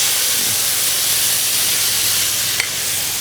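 Peaches go into a hot pan of browned butter and set off a loud, steady hiss and sizzle close up, with one brief clink near the end.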